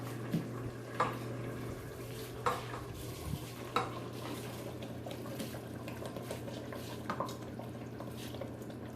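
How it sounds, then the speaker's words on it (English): A spoon scrapes and stirs through rice in a pot, with periodic clinks against the metal over a steady low hum. "I'll stir it."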